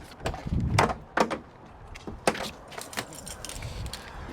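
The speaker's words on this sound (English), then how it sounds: "Taking the keys out, making sure that all of the windows are up and secure." Keys jangle as they are pulled from the ignition of a lorry cab, a few metallic rattles and clicks over quiet interior room noise, with no talking.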